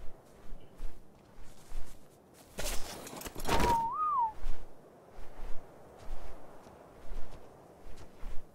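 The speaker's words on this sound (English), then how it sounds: "Can you whistle my dog?" A player in the video game Ark whistles to command a dog: one short rising and falling whistle, close and clear, over soft game ambience and muffled thumps.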